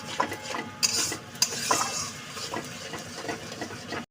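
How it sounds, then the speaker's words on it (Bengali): Spice paste with a little sour yogurt stirred and fried in a pan: a steady soft sizzle runs throughout, with the close scrape and tap of a spoon against the pan, and no talking. "অল্প করেই দিলাম টক দইটা, দিয়ে একটু কষিয়ে নেব ভালো করে।"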